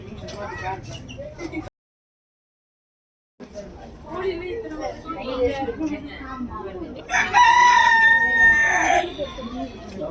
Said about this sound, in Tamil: இதுதான் சைனா கோழியா